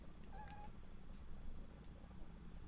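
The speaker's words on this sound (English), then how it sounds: "Yes, I have a cat." A house cat gives a short, faint meow, a rising tonal call that tails off, heard indoors over a steady background hum with no talking.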